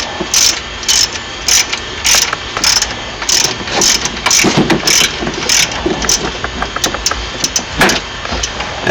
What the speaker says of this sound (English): You can go ahead and loosen the two bolts that attach the alternator to the alternator bracket.